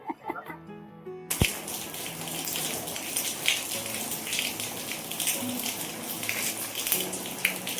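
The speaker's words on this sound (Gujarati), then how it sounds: "ધીમી ધારે વરસાદ ચાલુ થયો છે." Light rain falls steadily outdoors as a soft continuous hiss with scattered drops, starting after a brief moment of other sounds and holding through the rest with no talk over it.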